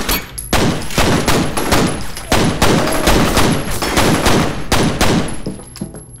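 Dense, loud gunfire from the video game F.E.A.R. rattles in continuous bursts of rapid shots, close and almost unbroken for the whole stretch.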